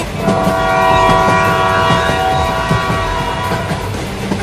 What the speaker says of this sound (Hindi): और तेज चलाओ, ट्रेन पास आती जा रही है।